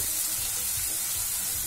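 Constant hiss and crackle of tomatoes frying in hot oil for a chicken gravy, close and steady, with faint scraping of stirring underneath.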